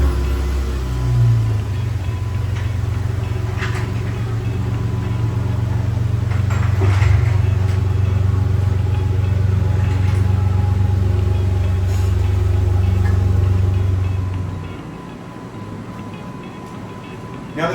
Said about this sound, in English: All right, let's pull the Jeep out.